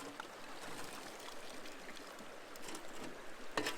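Water rinsing gold concentrate from a dredge sluice box mat and riffles, a soft, steady trickling splash, faint and close, with a small knock near the end.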